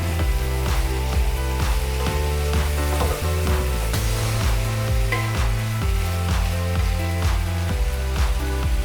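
A pan of val bean curry cooking over medium heat, sizzling steadily as it is stirred. Repeated scraping strokes sound close and continuous, with a rhythmic musical background running throughout and no speech.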